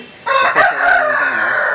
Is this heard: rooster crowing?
yes